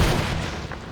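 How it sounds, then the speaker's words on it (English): A grenade blast in the video game Rise of the Tomb Raider: a loud, close boom with a heavy low rumble that lingers and decays over a second. "Maybe I should blow it up with a grenade."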